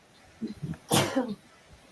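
A single sharp human sneeze, close and loud after a short inhaled buildup, during a conversation.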